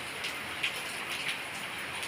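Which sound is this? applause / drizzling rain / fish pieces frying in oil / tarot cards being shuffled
drizzling rain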